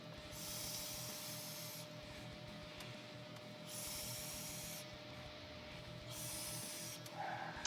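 Long inhaled draws on an Aspire Cleito tank with a 0.2 ohm coil at 70 watts, a steady airy hiss lasting over a second each, repeated several times with brief pauses, up close.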